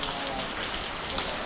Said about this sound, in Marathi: पाऊस काय थांबत नाही